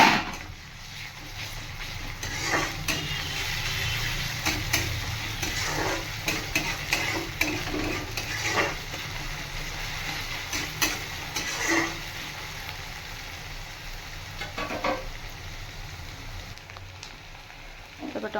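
Ginger garlic paste fries for a fish curry in a steady hissing sizzle, with repeated scraping and stirring strokes from a spoon breaking through at close range.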